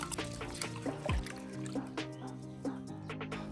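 Water is poured off washed whole urad dal in a pressure cooker, giving a close, gurgling trickle with small splashes and drips.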